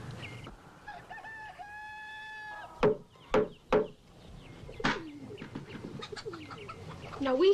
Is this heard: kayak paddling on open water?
no